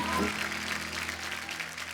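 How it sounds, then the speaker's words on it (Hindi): Studio audience applauding to welcome actress Shreya Dhanwanthary onto a comedy talk show stage, a steady wash of clapping lasting the whole stretch with music underneath. "तो आप सबकी जोरदार तालियों के बीच में स्वागत करना चाहूंगा श्रेया धनवंतरी"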